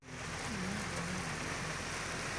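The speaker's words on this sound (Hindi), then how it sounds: "इस वक्त हम पहुंच चुके हैं कुमराड में और तेज़ बारिश हो रही है" Heavy rain pours steadily in Kumrat, a dense, continuous hiss of drops that stays loud and unbroken throughout, with no talking over it.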